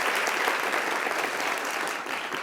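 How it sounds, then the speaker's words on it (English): A round of applause for a playwright and her actors after a reading about mid-century queer America fills the room, many hands clapping in a thick, sustained burst that tapers slightly toward the end, with no talk. "So let's have another round of applause, please, for Zsa Zsa Gershick and for the actors."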